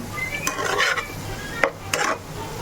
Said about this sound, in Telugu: గుడ్డికి ఉప్పు కారం పట్టేలాగా 2 నిమిషాలు ఇలా వేగనివ్వాలి.